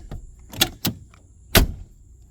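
Sharp thuds of a Lincoln's car door being shut, several in a row at uneven intervals, with quiet in between.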